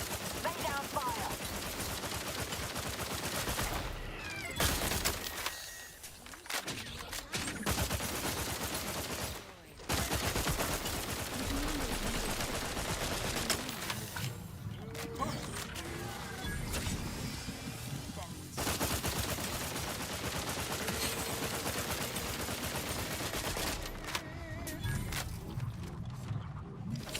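Dense, continuous gunfire with rapid bursts and heavy booms filling the whole stretch, loud and layered, with a few brief lulls and a voice speaking over the din at times.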